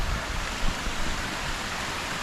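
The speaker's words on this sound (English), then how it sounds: "I love the sound of running water as well." A waterfall on a hiking trail, its running water a steady, broadband rushing that fills the moment at moderate distance with no voices.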